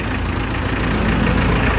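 Mitsubishi L300 van engine, customized with a side door, idling steadily and loudly up close with an even, continuous rumble and no voices.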